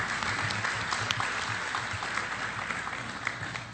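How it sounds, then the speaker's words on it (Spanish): An audience at a national dialogue session applauds, a continuous, even roar of clapping from a sizable crowd that holds steady throughout. "le demos un aplauso"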